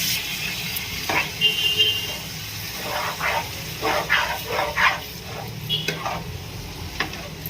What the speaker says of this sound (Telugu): మొత్తం ఇట్లానే వేసుకొని ఫ్రై చేయాలి